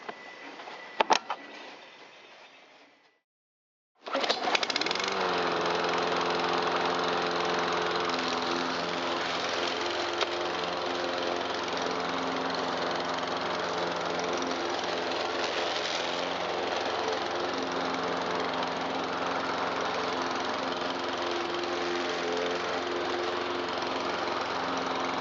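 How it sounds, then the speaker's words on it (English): A 2009 Troy-Bilt XP lawn mower with a four-speed transmission, just repaired after failing to start, coughs briefly, goes quiet for a moment, then catches and runs at a steady, loud, close idle hum with a faint knock for the rest. "one 2009 Troy-Bilt XP lawnmower with 4-speed select speed transmission back alive"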